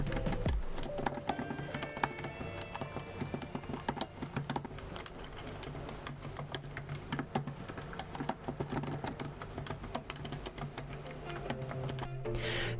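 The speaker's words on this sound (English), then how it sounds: "I recorded the sound of both keyboards so you can hear it and compare the noise level" Typing on the keyboards of a MacBook Pro 16-inch and a 2018 MacBook Pro 15-inch, a steady close patter of quiet, rapid key clicks running throughout with no talk.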